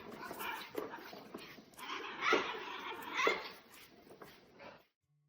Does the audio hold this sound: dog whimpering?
yes